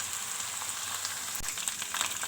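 Garlic and ginger paste frying and browning in a pan for chicken karahi, a steady close hiss and sizzle with occasional soft pops, no talking.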